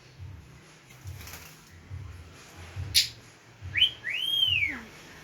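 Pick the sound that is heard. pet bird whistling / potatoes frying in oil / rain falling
pet bird whistling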